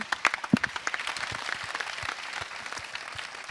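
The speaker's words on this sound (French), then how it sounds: "ça s'applaudit aussi" Audience applause at an evening awards event honouring Olympic athletes' projects, with distinct individual claps near the start that thin into a looser, moderately faint patter of scattered hands.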